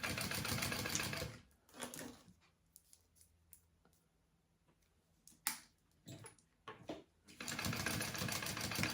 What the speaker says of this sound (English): I'm just going to put it, fold it over, and sew it. Just basting the bottom of it closed.